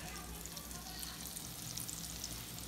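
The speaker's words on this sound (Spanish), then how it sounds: "Le damos una aplastadita con la misma mano para que se haga más grandecito el camarón lo metemos a freír" Breaded shrimp fry in hot oil, giving a soft, continuous crackling sizzle heard up close at a low, even level with no voices.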